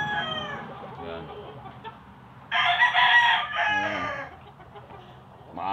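A gold sweater gamecock rooster gives one loud, close crow that stands out over a quieter background of clucking and low chatter from nearby birds.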